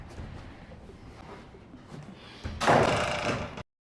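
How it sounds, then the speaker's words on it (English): An indoor door is pushed shut, ending in a loud, close burst of sliding rustle and thud that cuts off abruptly after quieter room noise. "Close the door."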